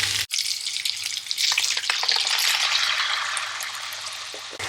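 Vegetables with parsley stew in a pan before passata goes in, giving a steady close sizzle and bubbling crackle with dense light spatter that holds throughout.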